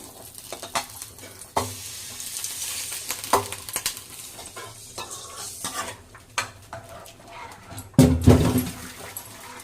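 Spices tempering in hot oil for a bottle gourd kootu, a soft continuous sizzle with scattered stirring clinks and scrapes of a spoon in the pan, ending in a louder burst of crackling near the close.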